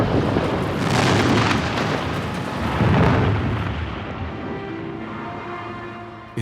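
Heavy bomb explosions during the Blitz on London rumble in deep, rolling booms, two main surges of roar that swell and then slowly fade away into a lingering low rumble.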